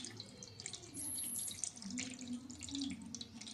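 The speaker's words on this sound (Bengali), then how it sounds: "তারপর জল দিয়ে শেষে গোপুসোনাকে অভিষেক করিয়ে" Water pours over a small idol of baby Krishna during a birthday abhishek bathing ritual at home, a steady running trickle with splashing, moderately close, with faint talk underneath.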